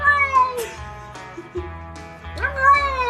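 A kitten meows repeatedly and loudly up close, several drawn-out, rising cries with short pauses between them, with no talking.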